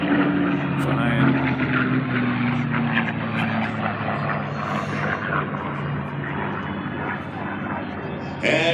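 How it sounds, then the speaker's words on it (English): P-51D Mustang propeller warplane roaring past low at an air show, a loud sustained engine drone that slowly fades as it passes. "Sneaking in, low and to the left, the P-51D Mustang. Mustang, baby. Look at it. Flying."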